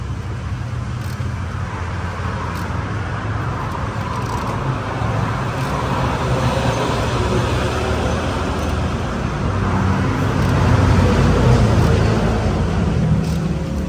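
A Ford Raptor 2.0 bi-turbo engine runs as a loud, close, steady mechanical drone, swelling slightly near the end with no voices over it.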